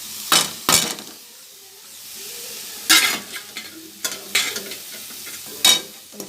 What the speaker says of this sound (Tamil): மசாலா எல்லாம் அந்த காயோட சேர்ந்து நல்லா வதங்கிட்டு